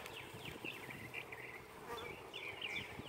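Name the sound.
honey bees buzzing at hive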